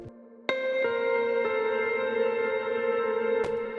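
Serum piano patch without its distortion downsample effect, a clean, sustained chord struck after a brief lower note, ringing steadily with a couple of soft re-strikes, alone and moderately quiet.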